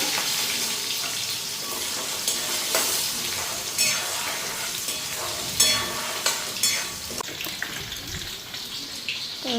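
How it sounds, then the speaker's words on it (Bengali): Potatoes lightly frying in oil with cumin seeds and bay leaf, a steady dense close sizzle that runs throughout, with occasional clinks and scrapes of stirring and no voices. "আলুটা তেজপাতা দিয়ে দিই, আর আলুটা হালকা ফ্রাই করে নিই।"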